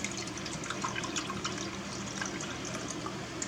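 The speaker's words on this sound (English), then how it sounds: "when you're pouring your broth, do not pour it this way" Chicken broth pours into a casserole dish for a tortilla chicken casserole, a soft, steady liquid trickle and splash heard close up and fairly quiet, running continuously without talk.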